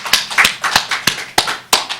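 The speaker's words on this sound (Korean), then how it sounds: "하나님께 영광의 박수 올립니다." Short burst of clapping from a church audience, a handful of sharp, distinct claps at irregular intervals over a couple of seconds, close and fairly loud with no talking.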